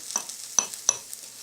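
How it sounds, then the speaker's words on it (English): Pickling vegetables with cucumber and garlic get a brief stir in a pot, three quick clinks and scrapes against the metal over a faint background hiss. "give that a brief stir"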